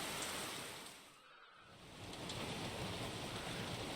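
Dense, steady video game rain noise fills the clip, dipping briefly in the middle before swelling back to a full, even hiss.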